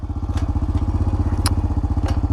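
Honda TRX250x sport ATV idling with a steady, rapid low engine pulse as it is shifted into reverse, with a few sharp clicks and clunks from the gear change heard over the close engine note.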